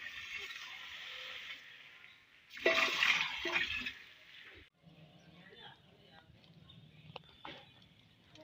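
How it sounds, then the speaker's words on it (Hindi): Water poured from a container into a large pot of rice and sugar for zarda sweet rice, a loud gushing splash lasting about two seconds, with people talking around it before and after. "तकरीबन 2 किलो पानी शामिल करेंगे।"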